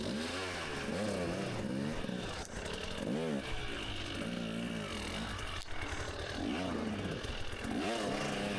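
A dirt motorcycle on an off-road race hill climb revs hard and repeatedly, its engine surging up and down in rapid bursts close by, loud throughout with faint breathing underneath.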